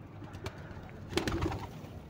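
Pigeons coo softly inside a loft, a couple of low throaty calls near the middle against faint background rustle and noise.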